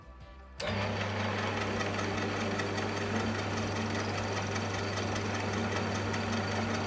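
A lathe starts abruptly and runs at a steady, loud, even whir with a constant hum, cutting a piston for a Mini 1275GT race engine, close and continuous without any voice.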